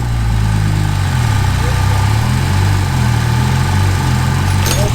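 The engine of a 700 bhp Nissan Skyline R33 hums with a steady low drone after a new clutch install, loud and close, its pitch wavering slightly as gears are engaged.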